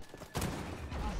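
A sniper rifle shot in the shooter game XDefiant cracks out sharply partway through, followed by dense rumbling gunfire and game noise that carries on to the end.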